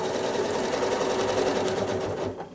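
A sewing machine free-motion stitches a small cursive letter E onto a quilt, running close and loud as a fast, steady mechanical whir that slows and stops at the end.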